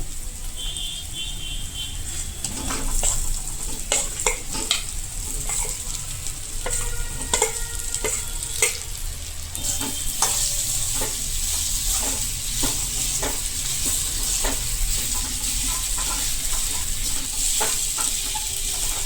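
Diced potatoes are stirred and fried with spices in a pan for a dry potato bhaji, with repeated scraping strokes over a constant bright sizzle and no talking.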